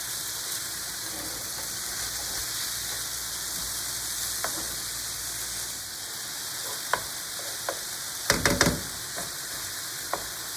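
Small pieces of bacon sizzle and fry in a pan while cooking cod saltimbocca, a steady soft crackle with a few sharper pops and stirring clatters, fairly quiet and close, with no talking.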